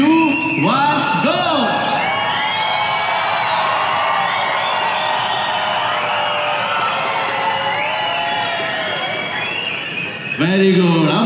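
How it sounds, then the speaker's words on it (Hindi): A large crowd at a Bangalore comedy party night roars, whoops and shouts loudly on cue, a sustained wall of cheering voices that swells and fades, with a host's voice briefly at the start and end. "और हम में से कितने लोग जोर से चिल्ला सकते हैं?"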